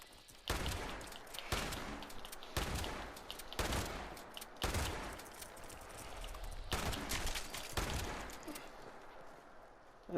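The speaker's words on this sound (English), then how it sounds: "Shotgun comes through for us." Shotgun blasts in Fallout 76, about eight loud, sharp reports spaced roughly a second apart, each with a booming tail, fired close with no talk over them.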